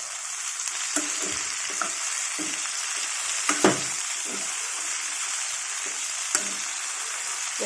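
Tomatoes and tamarind frying in a pan, a steady close sizzle with scattered stirring scrapes and occasional utensil taps over several seconds.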